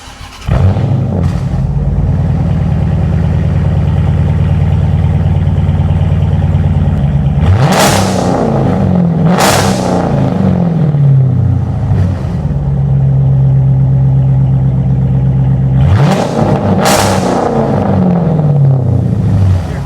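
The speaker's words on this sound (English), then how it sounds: "so you could hear that glorious V8" A custom V8 Chrysler 300 rumbles loudly through its exhaust, idling steadily and then revving sharply several times, with rising and falling pitch between blips.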